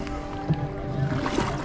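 Boat ride on Phewa Lake in Pokhara, Nepal, with a low, steady rumble of the boat on the water and a few soft knocks and splashes, brief and close.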